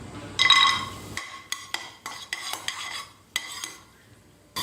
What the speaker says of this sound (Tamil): இப்போ இந்த முந்திரியை நான் நெய்யில் ஆட் பண்ணிடுறேன்.